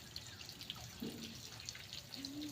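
A shower runs faintly with a steady soft hiss of water, with light dripping and splashing scattered through it.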